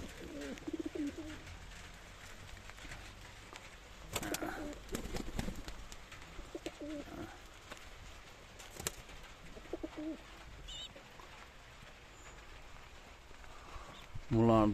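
Pigeons, including a bird brought from Jizzakh, cooing softly in short low burbling calls scattered through the clip, with someone talking over them and some intermittent clatter.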